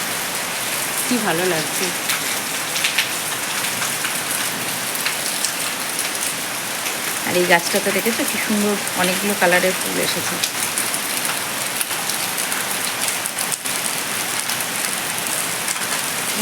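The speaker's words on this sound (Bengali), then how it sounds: "এই যে ঝমঝম ঝমঝম করে বৃষ্টি হচ্ছে" Heavy rain pours steadily outdoors, with water already pooling on the street, a continuous dense hiss that runs the whole time while someone talks briefly over it.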